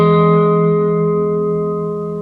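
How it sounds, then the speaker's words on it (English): An electric guitar lets a root and third ring together through reverb and delay, a sustained, harmonically rich chord slowly decaying with a shimmering tail, played alone without talk. "And it gives this really beautiful tone, especially when you have the reverb and the delay going."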